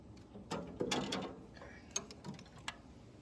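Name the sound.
disconnecting the linkage on a Ford 8N tractor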